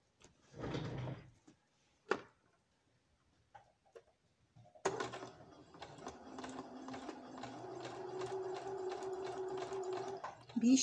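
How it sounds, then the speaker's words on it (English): A sewing machine stitches fabric for baby booties, a steady rapid ticking run starting midway and continuing to the end, preceded by a few scattered handling knocks and brief rustles. "now I'm gonna go under the sewing machine and I will connect them together closer to the rope"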